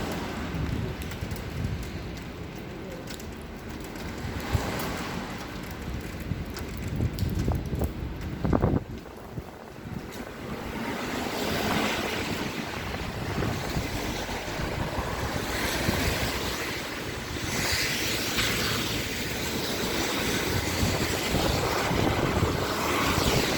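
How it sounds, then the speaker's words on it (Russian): A motor ship pulls away on the river opposite the Moscow Kremlin, its engine droning steadily and growing louder amid outdoor city ambience. "Теплоход пошел."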